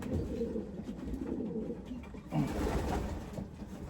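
Young racing pigeons coo softly in a loft, low murmuring calls repeating over a faint background hum.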